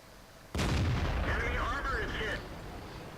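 A Tiger II tank gun fires in World of Tanks, one loud, sharp, booming shot followed by a rumbling, ringing tail and mechanical whine before the level drops to a low background hum.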